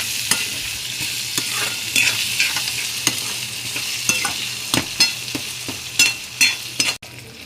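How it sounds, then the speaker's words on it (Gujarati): Potatoes are sautéed in a pan for a potato and fenugreek shaak, a spatula scraping and tapping in an irregular rhythm over a constant sizzle, close and fairly loud, no talking. "હવે આને સાતળ્યા બાદ બટેકા નાખી દઈશું અને બટેકાને બી બરાબર સાતળી લેવાના છે"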